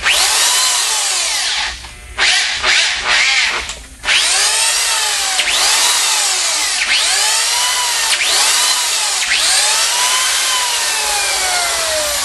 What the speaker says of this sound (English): doesn't changing the drill direction like that damage the drill?